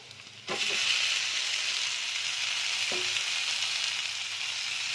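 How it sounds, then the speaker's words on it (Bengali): Spiced soya chunks tipped into a hot wok set off a sudden loud sizzle that holds as a steady close hiss, with a spoon clink or stir about midway and no voices. "এবার আমি সয়াবিনটাকে যে সব মশলা দিয়ে মাখিয়ে রেখেছিলাম এটা আমি এখন কড়াইতে ঢেলে দেবো।"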